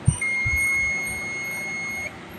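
A Honda Click scooter's buzzer sounds a single steady high-pitched electronic tone for about two seconds, with a couple of low thumps at the start.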